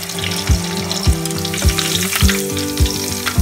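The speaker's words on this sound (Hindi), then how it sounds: "बस हमें मिर्चों को इतना ही फ्राई करना है" Chillies fry in hot oil, a loud, close, continuous sizzle with a regular pulse of stirring strokes about every half second.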